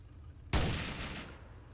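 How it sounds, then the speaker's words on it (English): Gunshots fired by Chicago police with assault rifles, a sudden loud burst of several overlapping cracks that rings out and decays over about a second, heard without talk. "Shots fired, shots fired."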